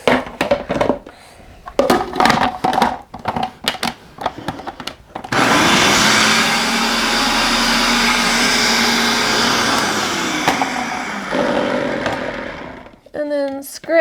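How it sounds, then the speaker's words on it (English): Kitchen blender whirring through half a bottle of capers for a red pepper butter sauce, a loud steady grinding roar lasting several seconds, preceded by clattering handling knocks and followed by short scraping sounds. "And blend it."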